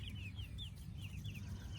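Soft, high chirping peeps from young chickens, including a little rooster, repeat in quick bursts over a low background rumble, faint and somewhat distant.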